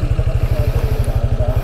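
Motorcycle engine running close by on a mountain ride, a steady rapid low thumping pulse that holds even throughout, with no talk over it.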